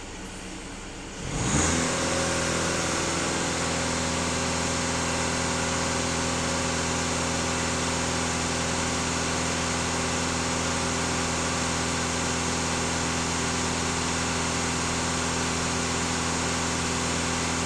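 An Audi A4 B9 2.0 TDI diesel engine catches and rises into a sustained full-throttle rev, a loud, steady, close-up drone that holds at high revs for the rest of the clip with no talk.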